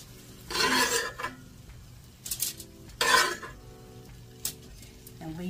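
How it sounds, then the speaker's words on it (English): Cooked chicken lifted from a pan onto a tray, heard as several metallic scrapes and clinks of a utensil against cookware in separate bursts, close and fairly loud, with quiet pauses between. "Now I'm going to remove it and just put it on this tray for the time being."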